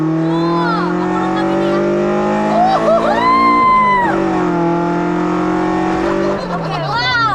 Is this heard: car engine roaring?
yes